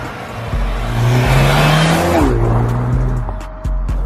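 Mercedes GLS 35 SUV engine accelerating hard through the gears, rising revs with audible shifts, loud and close, no talking.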